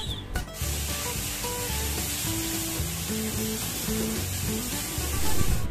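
Garlic and onion sautéing in a pan for pork kare-kare, a steady close sizzle and hiss running throughout with faint clinks, no voices.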